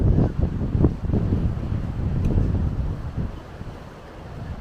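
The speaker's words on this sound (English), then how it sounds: "Now mind you, it is windy, so the sea is rough." Gusty wind buffets the microphone over a dull rushing of rough sea at Los Gigantes, Tenerife, loud at first and easing slightly toward the end.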